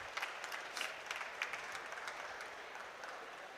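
Clapping at an awards ceremony for young entrepreneurs honours an engineering company winner; a faint, thin patter of applause with scattered individual claps that continues evenly, sounding distant.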